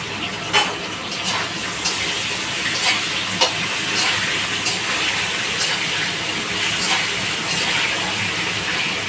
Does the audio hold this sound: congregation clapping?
no